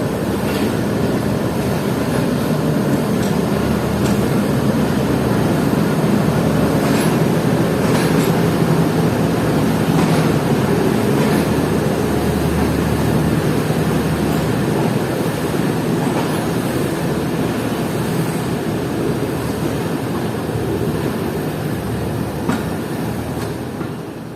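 The Khyber Mail Express runs steadily along the tracks, a continuous rolling rumble with rhythmic wheel clatter and faint squeals, heard from aboard the train for the whole stretch.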